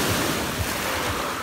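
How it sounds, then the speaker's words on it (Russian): Calm sea waves on a pebble beach in Batumi, a steady close wash of surf with soft rolling surges and some wind noise on the microphone, no voices. "Море теплое, море чистое,"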